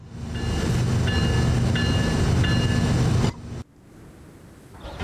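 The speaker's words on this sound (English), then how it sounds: "The train, she's so big." A big train rumbles steadily in Train Sim World 3, a loud continuous roar with faint repeating tonal clicks, then the sound drops abruptly near the end to a quieter hiss.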